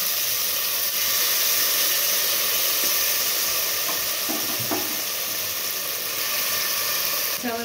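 Vegetables dropped into hot ghee fry with a loud, steady hiss and crackle, continuous and close throughout, with a few soft stirring knocks.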